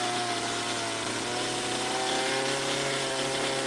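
A chainsaw runs steadily during live chainsaw carving outdoors, a loud continuous engine drone with stable harmonics and a slight pitch lift near the end, with no talk over it.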